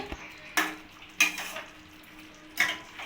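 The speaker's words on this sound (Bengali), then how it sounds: "এবার কসুরি মেথিটা দিয়ে আমি ভালো করে নাড়িয়ে" A spoon clatters three times against a pan while kasuri methi is stirred into soybean muitha. The scrapes are sharp and close, spaced out over a quiet background.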